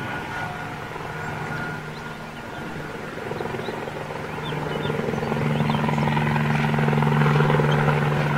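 An Airbus A350 moves out during an anniversary fly-past at Toulouse, a steady droning engine hum with tonal whines that builds louder toward the end, heard from a distance without talk.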